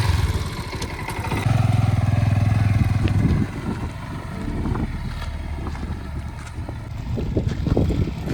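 A motorcycle rides along a badly broken rough road on the way to a temple, its engine droning steadily with bumps and rattles, mixed with wind buffeting the microphone and a louder engine surge early on.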